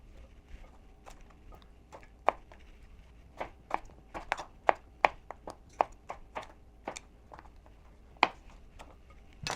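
A knife chops washed vegetables on a cutting board for lettuce-wrapped burgers, giving sharp, close, irregular taps in quick clusters with short pauses, and no voices.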